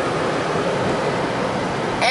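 Steady, dense rush of water jets rinsing a car inside an automatic car wash, heard from within the vehicle as a continuous broadband wash that stays loud throughout.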